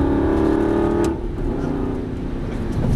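Aston Martin V8 Vantage engine on a track, a loud steady drone with strong harmonics that eases off abruptly about a second in, then builds again near the end.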